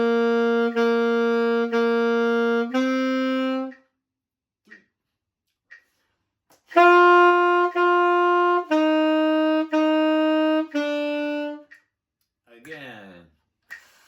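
A beginner saxophone exercise called the Fab 5 played at 60 BPM: a run of steady sustained notes, each held about a second, a pause with faint clicks, then another descending set of held tones, close and clear.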